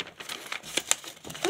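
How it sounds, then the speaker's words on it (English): Paper is torn and pulled away from nails on a string-art plaque, giving a close, quiet series of crinkling, ripping bursts over a second or so. "now I'm going to just tear my paper away from my nails."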